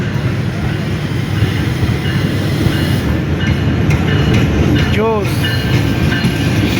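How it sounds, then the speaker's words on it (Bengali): The Banglabandha Express, hauled by locomotive 6604, passes through Akkelpur station during a crossing of two trains, with a loud, steady rumble and wheel clatter, a brief metallic squeal midway and a short spoken exclamation. "দুটি ট্রেনের ক্রসিং হইতেল আক্কেলপুরে।"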